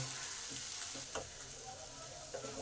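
Steady frying sizzle of spices and tomatoes for muri ghonto, with occasional scraping stir sounds from a spoon against a pan, close by, no voices.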